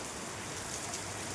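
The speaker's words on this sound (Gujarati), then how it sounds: "જો ભાઈ એક આવો વરસાદ છે ભાઈ" Steady rain falling on a street outside a shop, a dense even hiss close by with no other sounds standing out.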